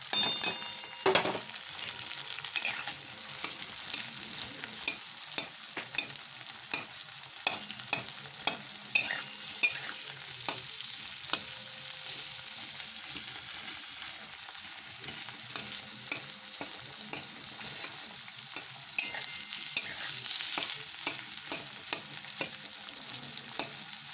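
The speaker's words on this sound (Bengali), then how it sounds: "এই পেঁয়াজটা দিয়ে দিচ্ছি, পেঁয়াজ আর লঙ্কা।" Chopped onion and green chili fry in butter in a pan, giving a soft steady sizzle under frequent sharp scrapes and clinks of a spoon stirring nearby throughout, with no voices.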